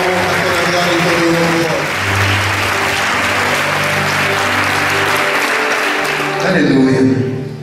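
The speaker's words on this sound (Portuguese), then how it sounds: "Nós fazemos isso desde já com uma salva de palmas ao teu nome" A church congregation bursts into sustained applause, dense clapping filling the room while a loud voice keeps talking over it and music sounds underneath.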